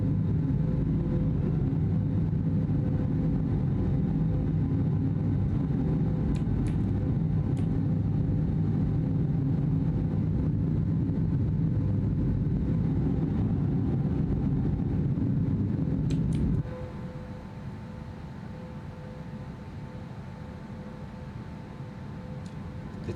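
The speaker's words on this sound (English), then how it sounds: "Let's hear the engine roar up." Inibuilds A320neo jet engines in Microsoft Flight Simulator, a steady loud low roar and rumble while taxiing, dropping abruptly to a quieter hum about two thirds of the way through.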